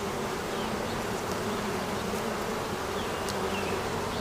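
Agitated honey bees swarm and buzz around an open hive during a beekeeping inspection, a steady, dense drone close by with no voices.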